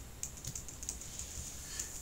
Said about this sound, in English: So let's just keep typing along.